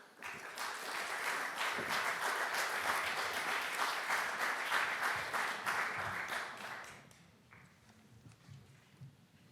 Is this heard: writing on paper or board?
no